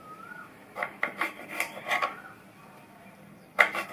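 A knife cuts through snake gourd, giving a few short scraping, creaking strokes close by in a quick cluster, then a pause and one more sharp cut.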